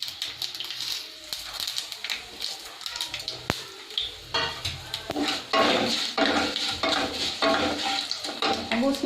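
Curry leaves hitting hot oil with fenugreek, mustard, fennel and cumin seeds for a mango curry: a burst of crackling sizzle that grows louder after a few seconds of quieter stirring and utensil clinks, with a faint voice.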